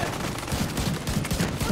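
Gunfire in The Division 2 during a firefight: a dense, rapid burst of repeated shots over a loud continuous background, close and sustained for under two seconds.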